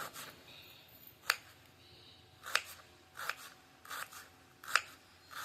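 Onions are finely chopped with a knife, heard as sharp, crisp cutting strokes at an irregular pace, about six distinct crunchy chops spaced across a quiet background, close and fairly soft, with no talking.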